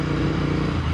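A motorbike ridden along Gold Coast, Australia roads, its engine droning steadily and loud throughout with a broad, constant roar and no voices.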